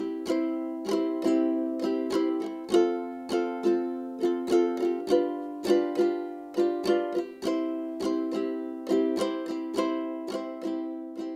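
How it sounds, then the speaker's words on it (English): Ukulele strummed in a down, down, up, down, down, down, up pattern through a few chords, a steady run of bright, close strokes played alone with no voices. "This is what the strumming pattern would sound like with a few chords."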